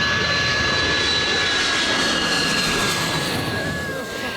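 An airplane passes low overhead near a small island airport, its jet engine roar loud and sustained with a steady high whine, close by and gradually fading slightly at the end.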